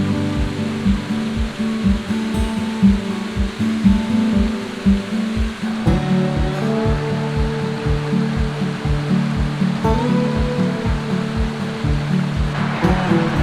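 Waterfall in Sproul State Forest, Pennsylvania, a loud continuous rushing roar close by, with a low rhythmic pulsing of machinery running underneath.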